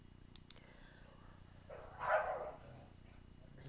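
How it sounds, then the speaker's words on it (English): Pet dogs bark at home, a single faint, distant burst of barking lasting about half a second in an otherwise quiet room. "I cannot ever get through one of these without these crazy dogs barking."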